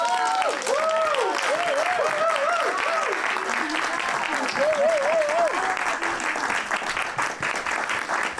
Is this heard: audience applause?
yes